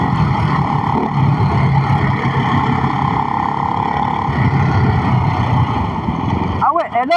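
Ducati Hypermotard 698 Mono single-cylinder motorcycle ridden at steady speed, its engine drone loud and continuous under rushing wind, with a brief shift or throttle change near the end; a rider talks over it.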